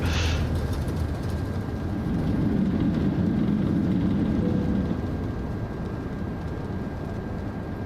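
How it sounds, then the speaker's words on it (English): Airliner engines roar at full takeoff thrust in Microsoft Flight Simulator 2024, a steady, loud broadband rumble that holds evenly for several seconds. "Are we gonna need a toga takeoff here?"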